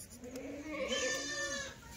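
A Kathiawadi goat kid on a farm bleats with one sustained, wavering cry lasting about two seconds, close and moderately loud, with no talk over it.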